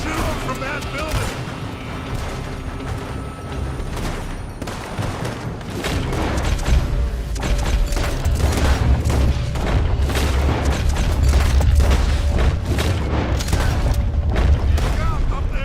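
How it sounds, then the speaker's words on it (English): Gunfire and booms ringing out from a building during a shootout in Red Dead Redemption 2, a steady stream of scattered shots and heavier blasts that grows denser and louder partway through, with voices underneath. "They're shooting from that building."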